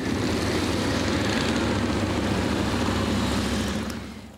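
Motorcycles riding in a spring parade in southern Alberta pass as a steady, loud, low engine roar, close and continuous before fading slightly at the end.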